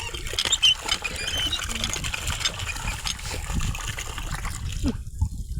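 Water flows and spills with a steady trickling, splashing wash that runs for several seconds before cutting out abruptly near the end. Faint voices talk underneath.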